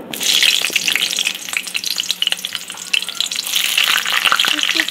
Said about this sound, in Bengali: এখানে পেঁয়াজ আর ক্যাপসিকামটা আমি একটু হালকা করে ভেজে নেব।